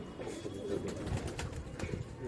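Pigeons coo softly in low, rolling bursts on a city terrace, a few birds close by against a steady background hum.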